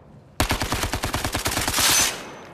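SMG firing in the Zero Caliber VR shooter game, a sudden loud burst of about twenty rapid, evenly spaced shots lasting under two seconds, ending in a brief hissing tail.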